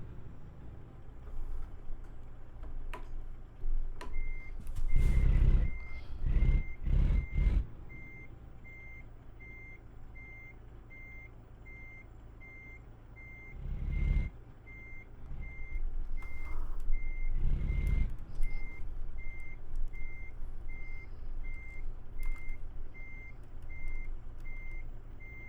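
Reversing beeps from a Kenworth K100E lumber-hauling truck in American Truck Simulator, a steady high repeating beep pattern running over a low engine rumble, with a few louder bursts of engine or air noise in between.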